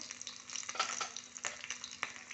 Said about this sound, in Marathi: आता मी मोहरी तडतड केली की यात कढीपत्ता टाकते आधी नंतर हिरवी मिरची नंतर उडदाची डाळ